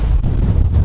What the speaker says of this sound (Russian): Ужас, ветер такой, песок прям метет.